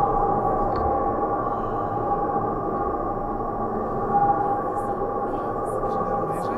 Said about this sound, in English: This is the sound of the Richard Serra sculpture